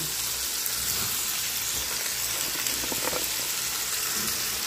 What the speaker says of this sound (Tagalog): Igala natin sa pagprito.